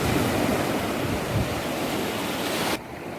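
Gentle, shallow sea waves washing in at Bakkhali beach, a steady close wash mixed with wind buffeting the microphone, which drops away suddenly near the end.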